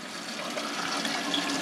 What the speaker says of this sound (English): Oh, there's water coming into the bowl.